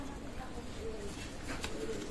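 Teddy pigeons of an Oman bloodline, offered for sale at a pigeon loft, give soft, low cooing over a steady background hum, with a voice murmuring faintly nearby.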